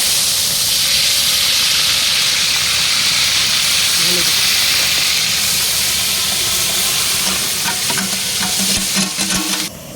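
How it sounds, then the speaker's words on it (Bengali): Paneer frying in white oil in a village kitchen, a steady dense sizzle and hiss running throughout with occasional stirring clatter near the end, loud and close. "আমরা এখন পনিরটা সাদা তেল দিয়ে ভেজে নেব পনিরটা ভেজে দিলাম"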